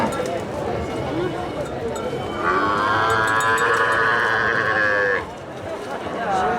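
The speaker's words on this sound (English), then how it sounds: "the cattle market is well underway" Livestock calls rise from a busy cattle and buffalo market in northern Vietnam, a long sustained bellow or bleat carrying over a steady crowd murmur and nearby chatter.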